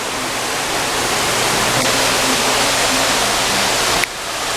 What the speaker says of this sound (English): I like the sound of the waterfall